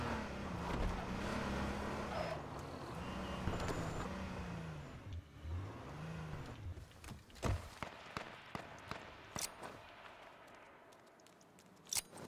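Car engine in a video game, a droning motor whose pitch rises and falls as it drives, steady through the first half before fading under scattered sharp impacts and clicks.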